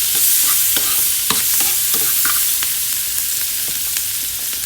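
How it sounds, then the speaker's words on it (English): Onions and garlic fry in hot oil in a pan with a loud, dense, continuous sizzle, dotted with brief scraping taps of stirring, and no voices. "And to this, I'm going to add some onions. Also have some garlic."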